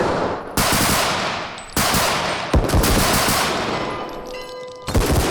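Loud bursts of automatic gunfire in the game Bodycam, several sustained volleys separated by brief gaps, close and dense with ringing tails, no talking.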